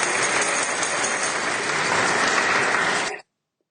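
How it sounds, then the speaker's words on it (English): A small audience at a studio music recital gives steady, sustained applause, evenly loud throughout, before it cuts off sharply into silence. "This should show you the applause now."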